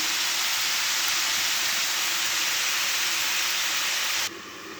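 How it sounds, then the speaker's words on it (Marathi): Cumin seeds sizzle in hot oil in a pan while cooking a Bhogi vegetable dish, a steady, loud, even frying hiss that drops away abruptly near the end. "हे सर्व जिरे आपण फ्राय करून घेऊया"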